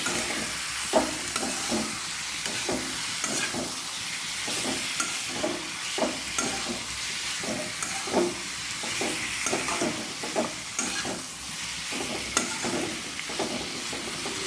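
Pigeon meat sizzles steadily in a hot pan, a continuous close frying hiss with soft crackles and occasional stirring scrapes.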